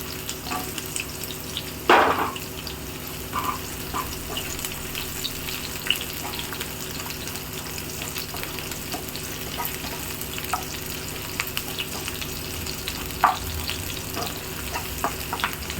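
Fish head and large-cut onion fry in plenty of oil, giving a continuous crackling sizzle broken by occasional louder scraping stirs, close and without talk.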